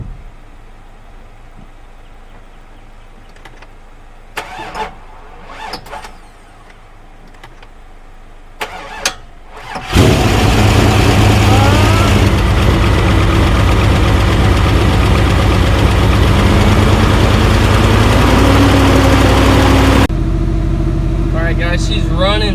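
A 6.0 engine swapped into a Silverado fires for its first start after a few clicks and quiet handling noises, then runs loud and close at a steady idle for about ten seconds before dropping to a lower level.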